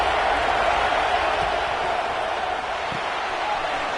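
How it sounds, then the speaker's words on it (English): Football stadium crowd roaring steadily as the home defense plays in the red zone, a dense, sustained wash of cheering voices without pauses. "the crowd coming to life here, trying to help this defense down in the red zone"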